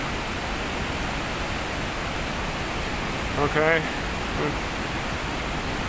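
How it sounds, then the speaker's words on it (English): Waterfall beside the Bamboo teahouse on the Langtang Valley trek: a steady, broadband rushing roar that fills the whole clip, with a voice speaking briefly near the middle. "That is actually a waterfall."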